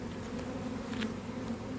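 Honeybees drone steadily and close during a beehive inspection, a continuous buzzing hum with no voices.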